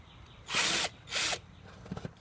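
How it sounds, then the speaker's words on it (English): A power drill with a 1/4 inch bit bores a hole in a plastic kiddie pool, two loud high-pitched whirring bursts close by, followed by a few soft clicks. "I have my 1/4 inch drill bit, and here we go"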